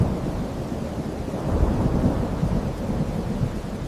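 A thunderstorm with heavy rain, a dense continuous roar that rumbles low and stays steady and loud throughout.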